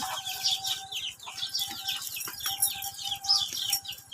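Chickens cluck and chirp in a busy, steady chatter, with a low rhythmic rumble underneath throughout.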